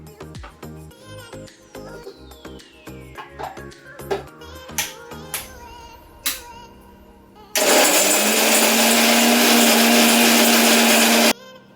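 Kitchen mixer grinding coconut, garlic, ginger and coriander into paste, starting after a run of clattering knocks and then roaring steadily at close range for about four seconds before cutting off.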